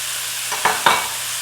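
Red peppers, jalapenos or green peppers and other vegetables dropped into a hot pan, two quick close bursts of sizzle and scraping in quick succession against a quiet background, no talking.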